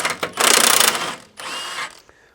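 A ratchet loosens a front strut bolt on a Toyota Land Cruiser 200 series, giving a close, rapid burst of clicking pawl strokes, a short pause, then a second shorter run of clicks.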